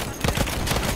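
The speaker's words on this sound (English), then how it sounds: "Spotted a machine gun!" Rapid machine gun fire in the Battlefield 1 game, a dense, loud burst of overlapping gunshots over about a second, close and harsh with no pause between rounds.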